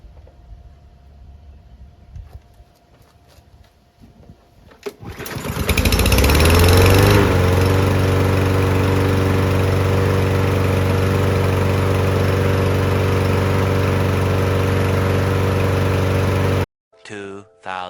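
A Toro lawn mower engine starts after a few faint sputters and settles into a loud, steady, close roar that holds for over ten seconds before cutting off abruptly.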